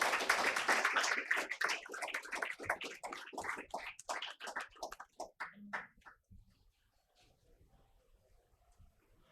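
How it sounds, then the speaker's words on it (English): A live audience at a formal event honoring an ambassador and dignitaries breaks into dense, steady applause, with many hands clapping loudly and then tapering into scattered claps before fading to quiet. "A big round of applause"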